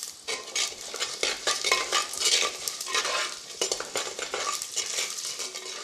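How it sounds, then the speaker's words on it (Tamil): Cumin seeds sizzle in hot oil in a pan while being stirred, with a bright crackling hiss and repeated scraping clicks of a utensil against the metal, close and steady with no talking. "ஜீரகம் போடுறேன்."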